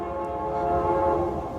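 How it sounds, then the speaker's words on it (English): A train horn sounds as one long, steady, loud blast with layered harmonic tones, heard on its own with no talking. "Pardon the train horn."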